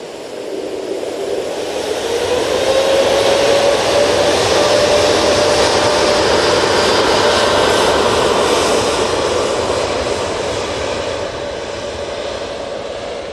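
A TUI jet airliner takes off from Manchester Airport, its engine roar building to a loud, sustained rush with a rising whine, then slowly easing as it climbs away.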